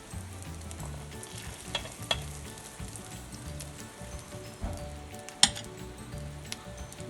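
Egg paniyaram frying in a paniyaram pan, a steady close sizzle with occasional scrapes and clicks as the batter balls are turned, no talking.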